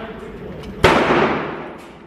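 A single Taurus G3C pistol shot at an indoor range, one sharp loud crack with a long reverberant decay filling the room, over a steady background of range noise.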